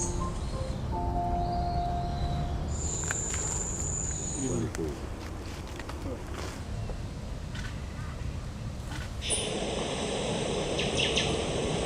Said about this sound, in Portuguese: Isso é um pichoxó, um passarinho que o pessoal tem muito em gaiola